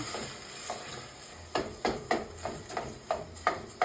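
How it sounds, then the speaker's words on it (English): Broccoli and sautéed garlic mashed in a sizzling pan with a spoon, with quiet frying at first, then a run of rhythmic scraping, pressing strokes, no voices. "Mush that up a little with a spoon."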